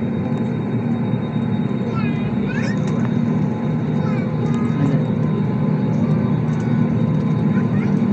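An airliner engine drones in a steady low roar during takeoff from Singapore Changi Airport, heard from inside the cabin near the wing, with a few faint high chirps over it.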